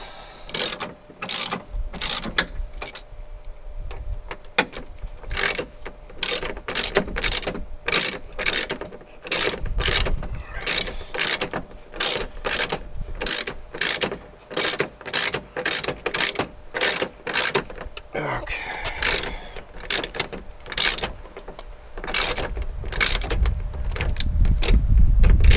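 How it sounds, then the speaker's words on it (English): A ratchet wrench clicks in repeated bursts of quick turns while working on a 2006 Jeep Wrangler TJ dash replacement, the sharp close pawl clicks coming in rhythmic strokes with short pauses and some handling noise between them. "ideally I'd probably be using a smaller wrench, but this is just what was laying around and what I grabbed"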